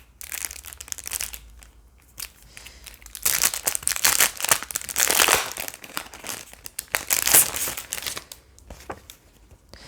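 Collector stickers from a spring book haul are handled in their crinkly packaging, giving close, uneven bursts of crackling and rustling with short pauses between handfuls.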